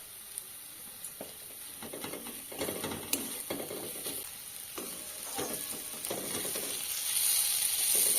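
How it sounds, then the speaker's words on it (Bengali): Chicken kosha spice paste of ground cumin, coriander, turmeric and chilli powder frying in a pan over a low gas flame, with a steady sizzle, soft intermittent stirring scrapes and no voices. "মশলাটা কষানোর সময় গ্যাসের ফ্লেমটা লো করে রাখবেন"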